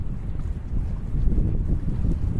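Gusty wind buffeting the microphone on Pittwater during a Naish ADX foil session, a continuous low roar that swells slightly stronger midway, with no voices.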